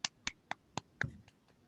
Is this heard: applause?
yes